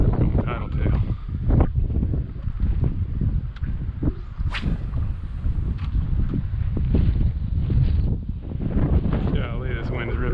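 Strong wind buffets the microphone continuously while a person paddle fishes from a small craft on the water, a loud roaring rumble with gusty swells and occasional splashes or knocks.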